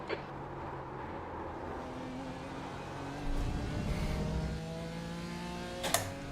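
A BMW M4 GT4 race car, the 2018 F82, drives on track and closes on a slower class car, engine droning steadily then rising in a louder surge of revs, with a brief sharp knock near the end.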